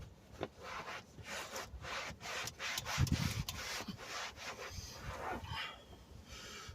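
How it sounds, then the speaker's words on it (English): A microfiber cloth wipes across a leather surface during cleaning, making close, repeated rubbing strokes in an uneven rhythm, soft but continuous and heard alone. "microfiber to wipe off"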